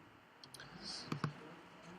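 Two quick, crisp clicks of a computer mouse, close together and close up, in an otherwise quiet room.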